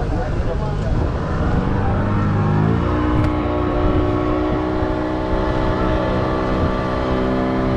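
A tour boat's motor starts up and pulls away from Chunnambar boat house in Pondicherry, a steady droning engine hum that settles into an even tone, with people talking over it.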